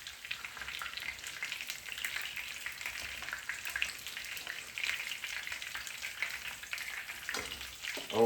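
Breaded chicken parmesan frying in a pan, a dense, steady close sizzle with fine crackling throughout and a brief clatter near the end, no voices.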